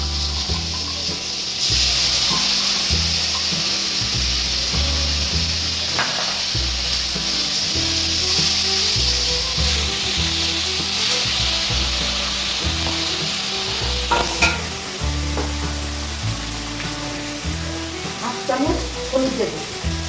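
Ginger, cumin and green chilli paste fries with tomato in a pan, a loud continuous sizzle with stirring scrapes throughout and no talking.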